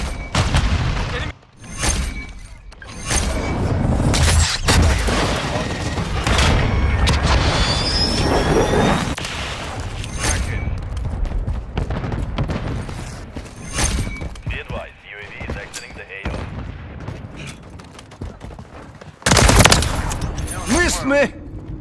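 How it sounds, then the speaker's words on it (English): Heavy, almost continuous gunfire from a Call of Duty Modern Warfare 3 multiplayer match on the Terminal map, bursts and booms piling up over several seconds with shouted in-game voice callouts mixed in. "Taking effective fire!"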